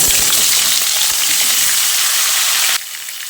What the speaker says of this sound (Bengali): তেল ভালোভাবে গরম হয়ে এলে এবার এর মধ্যে 500 গ্রাম আলু এরকম একটু ডুমো ডুমো করে কেটে নিয়েছি, সেগুলো এর মধ্যে দিয়ে দিচ্ছি।